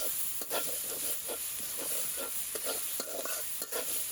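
Green chilies fry in hot oil for a shing fish curry, with a steady, bright sizzle and hiss running throughout and light stirring taps heard up close.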